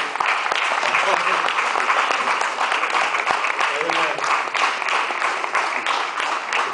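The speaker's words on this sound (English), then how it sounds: "please give him a round of applause" Loud, sustained applause from a congregation during a church worship service, dense steady clapping filling the room from start to finish.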